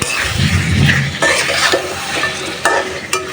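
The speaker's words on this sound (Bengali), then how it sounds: "মাছগুলো একটু কষানো হোক তো ভালো মতো" Fish being fried and stirred in a pan for a Bengali curry, a steady sizzle with scraping stirs and occasional clinks, close and moderately loud with no voices.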